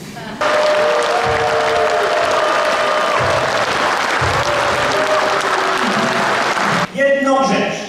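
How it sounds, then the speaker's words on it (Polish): Loud, sustained applause from an audience at a book launch event, filling the room continuously for several seconds, with voices and whistles rising at the end. "I wy bijecie takie brawa?"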